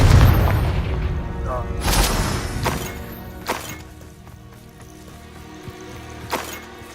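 A Confringo fire spell in the Hogwarts Legacy game goes off with a heavy boom and shattering crash, followed by further sharp impacts and booms over a few seconds, with a voice speaking around them.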